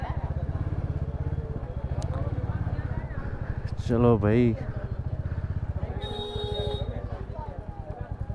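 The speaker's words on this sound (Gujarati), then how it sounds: "એ જ ગલીમાંથી આજે બાઇક પર જઈએ છીએ" Motorcycle riding through a narrow lane in Nathdwara, its engine throbbing steadily and close throughout, with a rider speaking briefly over it and a short wavering tone midway.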